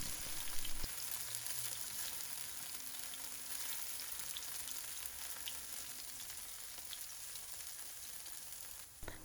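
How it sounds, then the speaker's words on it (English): Spring onions sautéing in hot cooking oil, a steady close sizzle and crackle that holds evenly with no voices over it. "After that you're going to fry in some onions."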